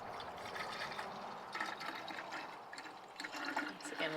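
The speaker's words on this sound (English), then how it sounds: "Top off the reservoir tank." Coolant is poured into a car's reservoir tank outdoors on a hot day, a soft steady trickle and gurgle of liquid that rises and falls over a few seconds, heard faintly with no one talking.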